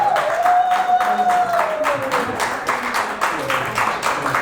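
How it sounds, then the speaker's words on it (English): Audience at a labor union community event applauding, a brief burst of clapping mixed with crowd noise and a sustained tone, with voices speaking over it. "Please keep clapping. Clap for them."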